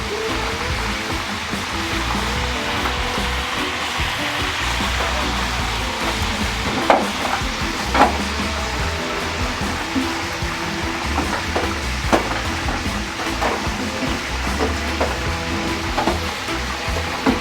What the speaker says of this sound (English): just like basting that oil back onto it so it fry on the inside, fry on the outside, fry upside down